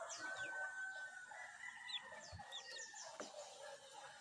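Swollen-faced fighting roosters in a farmyard crowing and clucking, with several short calls and a long crow rising over a steady chorus of other birds.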